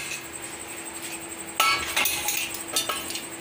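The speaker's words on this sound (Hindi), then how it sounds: "कुकर का हम लगा देते हैं ढक्कन" A metal lid is fitted onto a pressure cooker of khichdi, sharp metallic clinks and knocks close by, a few distinct hits after a quiet moment.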